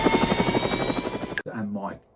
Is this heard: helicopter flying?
yes